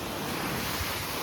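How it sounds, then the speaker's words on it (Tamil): Rough sea during a storm at Pondicherry: a steady, close roar of crashing surf mixed with gusty wind buffeting the microphone, with one deeper thump from a breaking wave. "ஆஹா, ஆக்ரோஷத்துடன் கடல் காணப்படுகிறது."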